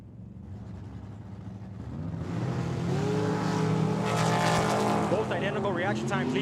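A drag racing roadster and dragster launch side by side at Tucson Dragway, engines idling low before rising into a loud roaring acceleration, with an announcer talking over the noise.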